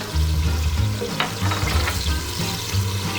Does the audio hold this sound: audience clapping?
no